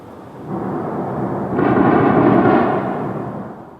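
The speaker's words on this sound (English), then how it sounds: "you could hear the thuds of the anti-aircraft guns going and the drones buzzing overhead for basically all night" Heavy booming and thudding from anti-aircraft guns firing during a night-time drone attack on Kyiv, a sustained dense rumble that swells louder midway and then eases, with no talk.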